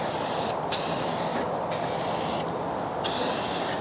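Aerosol spray paint hissing onto an old bike in four steady bursts separated by short pauses, close and loud with no talking.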